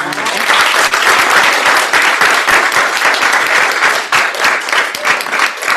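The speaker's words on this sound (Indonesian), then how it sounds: "Jadi tepuk tangan sekali lagi dong buat Mbak Ratna." An audience at a PPI UK Leeds talk event claps steadily and loudly for the whole stretch, a dense, sustained round of applause with no voices rising above it.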